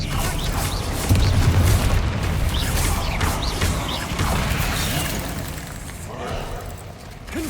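Spell blasts from the Confringo curse in Hogwarts Legacy, heavy booming bursts amid dense, continuous game combat noise, with a loud impact around the first seconds and further crackling hits throughout.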